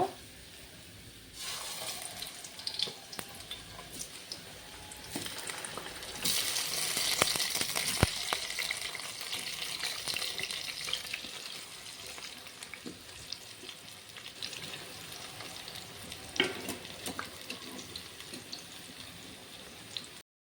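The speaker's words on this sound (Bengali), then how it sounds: "এখন আমি টমেটোগুলো লো ফ্লেমে রেখে হালকা হালকা করে ভেজে নেব।" Tomato pieces frying gently over low flame in a little oil in a kadai, a quiet, steady sizzle with occasional clinks and stirring noises.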